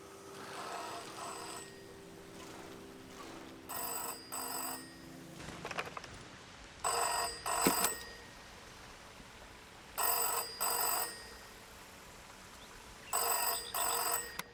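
A telephone rings in the video game Season: A Letter to the Future, with repeated bursts of double rings separated by pauses and a softer background tone earlier, no speech over it.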